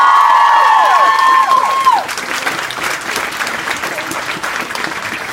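An audience at a live poetry show in Detroit applauds loudly and close, with a burst of cheering and a few whistles at the start before the clapping thins to a steady patter.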